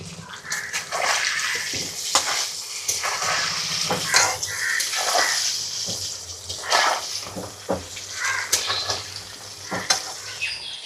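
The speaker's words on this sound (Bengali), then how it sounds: "মিডিয়াম আঁচে রেখে আলুগুলোকে একটু মোটামুটি করে ভেজে নেব।" Potato pieces with a little salt and turmeric frying in a pan over medium heat, a steady sizzle broken by scraping and stirring strokes, close and continuous, with no talk.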